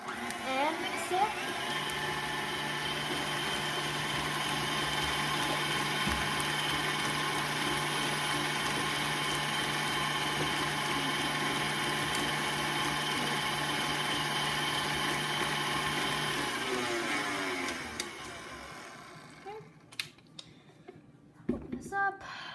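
An electric mixer beating red velvet cupcake batter, a steady whirring motor hum held for about seventeen seconds, then winding down, followed by a few knocks and clatters.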